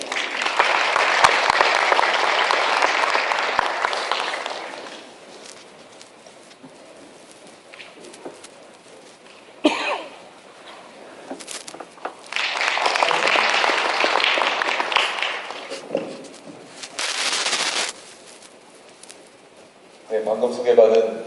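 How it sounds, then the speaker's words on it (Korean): A large audience applauds at a Busan forum as a former prime minister is welcomed, with two strong waves of clapping separated by quieter gaps, and a speaker begins talking at the end. "큰 박수로 모시겠습니다."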